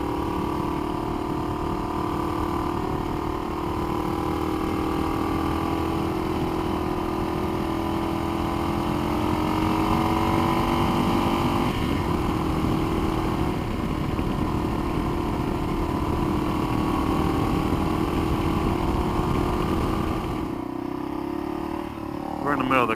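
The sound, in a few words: KLR motorcycle riding on country road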